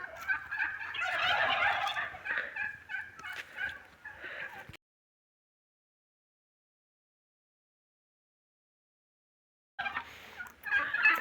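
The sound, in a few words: turkeys gobbling in a village yard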